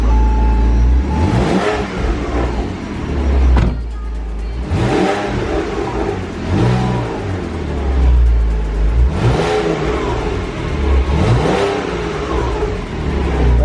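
Porsche Boxster engine at a cold start, revving repeatedly in neutral in a garage, loud and close with several rising and falling rev bursts over a steady idle.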